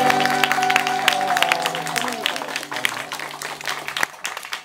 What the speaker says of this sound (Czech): Proto zatleskáme povinně